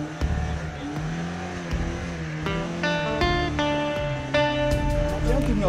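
Lada Niva off-road vehicle driving on rough ground, engine humming and revving up in steps with rising gear-like pitch, close and steady under background music and occasional talk.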